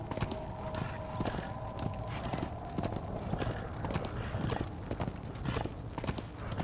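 Horse hooves clip-clopping in the video game Darksiders 2: a steady, rapid rhythm of galloping hoofbeats, moderately loud and continuous throughout, over a low ambient game background.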